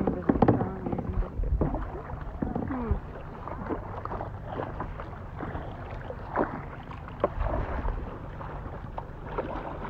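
Paddles dip and splash irregularly as a small boat moves across water, with wind noise on the microphone and scattered knocks; close and moderately loud.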